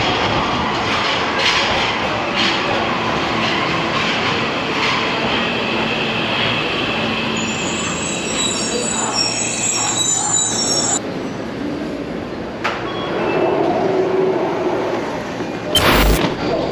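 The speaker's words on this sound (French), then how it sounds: "まもなく2番線に荻窪行きが参ります。" A Tokyo metro train pulls into a station platform, a loud, close roar of wheels and motors with high squealing brakes, fading as it stops, while a platform announcement plays in Japanese.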